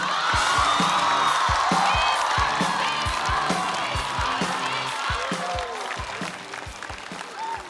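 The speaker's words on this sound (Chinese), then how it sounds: "掌声有请。" A studio audience at a stand-up comedy show claps loudly and continuously, dense applause with scattered whoops and cheers, easing slightly toward the end as a voice begins to speak.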